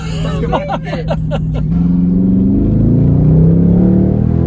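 Dodge Charger Scat Pack Widebody with its muffler fallen off, a loud, raw droning exhaust that swells as the car accelerates, with excited voices talking over the start.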